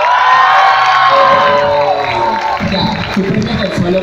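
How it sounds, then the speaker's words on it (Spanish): Audience at a live stage show in a Spanish-speaking venue cheers, whoops and shouts loudly and continuously, with some clapping mixed into the dense crowd noise. "Aplausos para María Pía y Timoteo"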